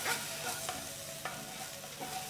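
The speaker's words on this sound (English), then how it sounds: "Fry the onions till they're a nice golden brown color." Onions frying in a pan with ginger garlic paste, a steady close sizzle broken by a few light scrapes of stirring, with no voices.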